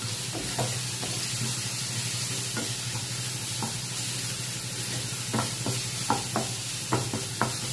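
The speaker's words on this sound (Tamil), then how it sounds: "அது நம்ம கிண்டும் போதே இந்த சலசலப்பு சவுண்டு கேட்கும் பாருங்கள்" A spoon stirs and scrapes a dry garlic powder mix in a hot pan, giving a steady rustling sizzle with scattered taps and scrapes that grow more frequent toward the end. No one speaks.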